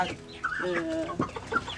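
Village chickens at a poultry breeders' cooperative cluck and squawk close by in a short, busy burst, with several birds calling over one another.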